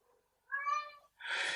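Cats meowing indoors, one drawn-out whining meow followed by a harsher, louder yowl, close and alone.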